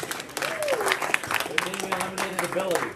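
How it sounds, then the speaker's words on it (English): People at a Rotary club meeting give applause for game participants, scattered claps and cheering beneath excited voices and shouts. "Round of applause for our participants."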